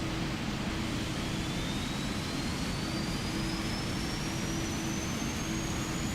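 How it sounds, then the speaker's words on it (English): A Boeing 777-300 jet engine starts up in Microsoft Flight Simulator, a steady heavy roar with a thin whine that slowly climbs in pitch as the engine spools up. "There's nothing cooler than a jet engine starting."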